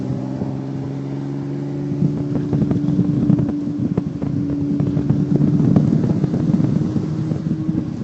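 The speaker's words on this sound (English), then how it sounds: "we're going for it past that 166 Ferrari in a D Type Jaguar at Castle Combe" A 1950s D-Type Jaguar racing car engine under hard acceleration during a historic race at Castle Combe circuit, heard from inside the car as a loud, droning roar with steady low harmonics, rising slightly and buffeted by wind noise.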